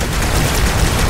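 Dense, continuous rapid gunfire from Halo, loud and sustained throughout with no pauses.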